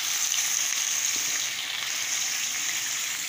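Boiled beef dropped into hot oil in a karahi, producing a loud, steady, bright sizzle that holds evenly from start to finish, close up with no voices.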